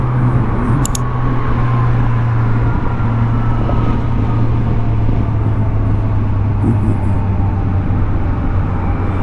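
Kawasaki Versys 1000 motorcycle cruising on a hot road, a steady low engine drone mixed with loud wind rush that holds constant throughout, with no one talking.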